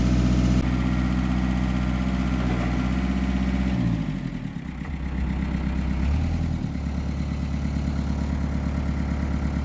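A tractor engine runs loud and close, holding a steady low rumble, briefly dipping and revving before settling back to an even idle.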